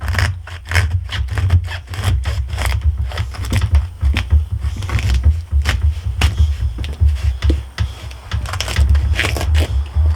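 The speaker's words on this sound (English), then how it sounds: "We're going to go ahead and cut up the artichoke now. Cut it right down the center." A knife cutting an artichoke down the center, giving repeated close crunching and scraping strokes on a board, loud and steady, with no speech.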